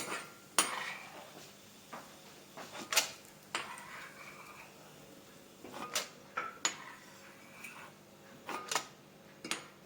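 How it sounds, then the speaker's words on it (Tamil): Ingredients dry-roasting in a pan for pudina thokku, heard as faint background hiss broken by intermittent clinks and scrapes of a spoon against the metal pan, sparse and close. "நல்லா கோல்டன் ப்ரௌன் கலர் வர வரைக்கும் வறுத்துக்கணும்"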